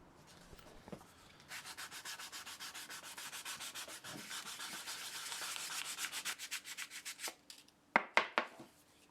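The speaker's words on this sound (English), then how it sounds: "Then we'll finish the job with some light sanding." Light sanding on the painted wooden parts of an old Spofford bit brace during restoration, a long run of quick, rhythmic back-and-forth rasping strokes that turn sharper and more spaced near the end, close and alone.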